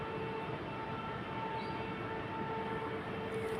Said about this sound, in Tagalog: Ang ingay ng generator.